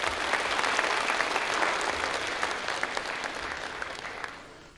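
A concert audience claps warmly in a dense, steady round of applause that slowly fades toward the end.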